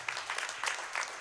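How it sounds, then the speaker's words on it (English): A church congregation at Sunday morning worship gives a brief burst of hand clapping in praise, a soft, slightly distant patter of many hands lasting about a second. "Give the Lord a hand clap of praise."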